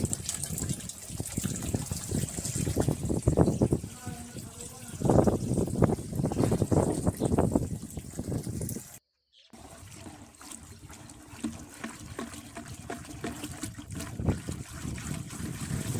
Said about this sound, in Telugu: ఇంకా డ్రమ్లోకి నీళ్ళు అయితే సగం వరకే వచ్చాయి ఫుల్ కావాలన్నమాట